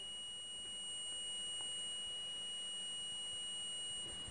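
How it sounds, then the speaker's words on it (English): A multimeter in continuity-test mode gives a faint, steady high-pitched beep tone that holds unbroken throughout, with no talking. "so it's beeping. That tells you that you have continuity"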